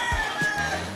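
A rooster crows once, fairly close, its harmonic call rising and holding before fading, with faint background noise.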